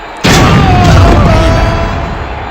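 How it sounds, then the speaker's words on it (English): A loud booming explosion in a WWE wrestling video game hits suddenly and then slowly decays into a rumbling tail. "Huge explosion as well."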